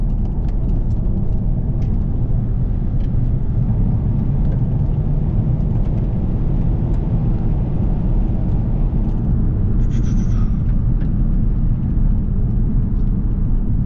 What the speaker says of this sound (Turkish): Gerçekten sport modda araba öyle bir coşuyor